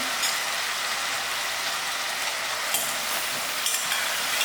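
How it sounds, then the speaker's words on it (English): Calabash frying in a pan is stirred, giving a steady close sizzle with brief scraping bursts from the spoon, and no talking. "Give it a good stir and lower my flames"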